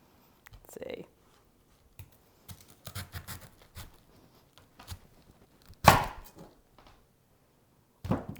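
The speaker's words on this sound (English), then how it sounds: "from here, you just slice and chop" A knife chops and slices vegetables on a board for soup, giving scattered, uneven soft knocks with one sharper, louder hit partway through.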